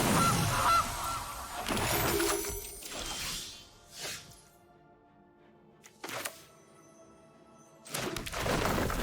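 A cartoonish goose honk from a card effect in the digital card game MTG Arena, heard as a few loud separate honks with short quiet gaps between them and no talk.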